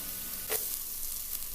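Minced garlic sizzling in oil in a pot, a steady close hiss of frying with a brief scrape of stirring partway through.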